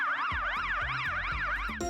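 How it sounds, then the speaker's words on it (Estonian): A loud wailing siren rising and falling in quick repeated sweeps, with a deep engine rumble underneath and a brief horn-like blast at the end. "Jah, see oli tuletõrjeauto heli."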